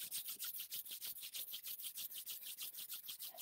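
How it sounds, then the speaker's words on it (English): Hands rubbing briskly together in a steady, even back-and-forth rhythm of soft rasping swishes, close and fairly quiet, with no talking. "we'll rub your hands together for a moment"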